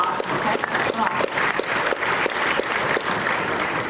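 An audience at a tech conference applauds steadily, a dense wash of many hands clapping fairly close for several seconds while a voice speaks over it.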